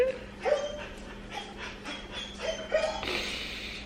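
A dog pants in quick, breathy bursts and lets out high, soft whimpers close by in a quiet indoor room, sounding anxious; no one speaks.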